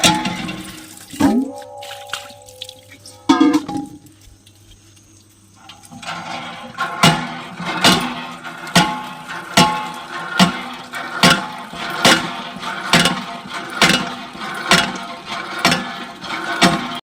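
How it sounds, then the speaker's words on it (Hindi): An outdoor hand pump is worked at dawn to draw water. After some scattered clanks and brief tones, the handle settles into steady, rhythmic mechanical strokes about once a second, each with a squeak and a gush of water. "मैं आई हूँ हैंडपम्प पानी लेने"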